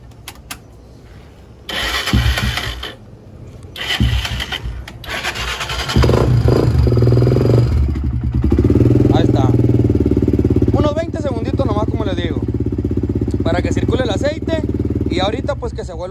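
A Honda TRX300EX ATV engine starts after an oil, filter and spark plug change, cranking in short bursts before settling into a steady, loud cold idle; someone speaks over the running engine.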